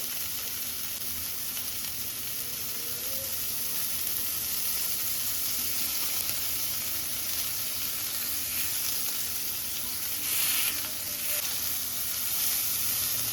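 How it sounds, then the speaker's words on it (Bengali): Adana kebabs fry in a pan over a medium flame, a continuous close sizzle with soft stirring and a brief louder burst as the kebabs are turned. "আমরা কাবাবগুলোকে উল্টিয়ে দিচ্ছি আর চুলার আট কিন্তু এই পর্যায়ে মিডিয়ামে আছে"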